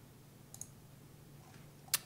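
Mouse clicks while setting up Synology DS220j NAS software: a faint quick double click, then a single sharper click a moment later, isolated against a quiet background with no talking.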